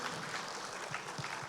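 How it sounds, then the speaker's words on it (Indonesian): Steady applause from a conference crowd, a dense wash of clapping held at an even level throughout, with no voices on top. "Tepuk tangan untuk Paragonian."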